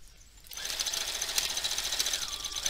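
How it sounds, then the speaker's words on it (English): A sewing machine runs in a steady, fast stitching rhythm on fabric, stitching forward and then reversing to the edge. It starts after a brief quiet moment and continues close and fairly loud. "So I do a couple of stitches forward, and then I'm going to reverse to the edge and then come forward again."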